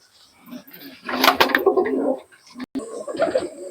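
Giribaz pigeons in a loft room give low, throaty coos in two close bursts, a louder one and then a softer one after a brief pause, with no talking.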